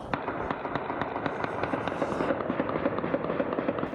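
Armed criminals fire dozens of gunshots in the streets of a city centre during a bank robbery, heard as a dense, rapid, continuous crackle of distant shots echoing between buildings.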